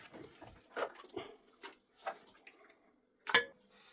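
Water poured into a pressure cooker packed with mutton vindaloo ingredients, heard as several short, splashy bursts separated by pauses, ending in a sharper, louder splash.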